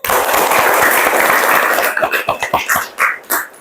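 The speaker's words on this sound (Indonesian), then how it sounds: "kita kasih tepuk tangan untuk kelompok 1" Students in a classroom clap loudly for a student group, a dense burst of close applause that thins after a couple of seconds into a few separate claps.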